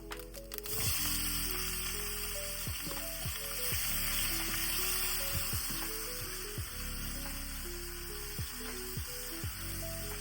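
Onions frying in a pan with asafoetida and curry leaves, giving a steady, soft sizzle throughout with occasional stirring clicks and no talk.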